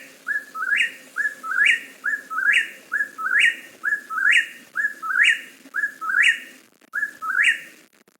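A bird repeats a loud, clear three-note whistled song, the whip-poor-will call, over and over in a steady rhythm, roughly one phrase every half second.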